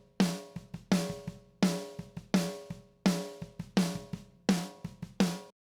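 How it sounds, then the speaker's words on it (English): Snare drum hits in a song mix, struck about twice per second in a steady backbeat, each crack loud and bright, with tonal instruments ringing beneath and softer percussion between hits. "Right now, the snare drum for this song sounds something like this."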